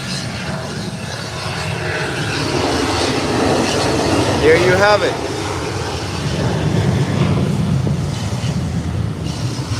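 Jet aircraft engines roar steadily during a takeoff roll at an international airport, a loud sustained rumble with wind buffeting the microphone and a brief rising whine midway, while someone talks over it.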